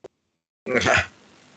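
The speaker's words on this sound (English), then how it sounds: "I'm just coughing" One short, harsh throat-clearing cough, close and fairly loud, after a tiny click and a moment of silence, trailing into faint noise.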